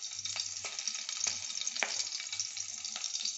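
Green chillies and nigella seeds sizzle in hot oil as a tempering for a hilsa and eggplant curry, with a steady crackling hiss and a few louder spits, close and moderately quiet.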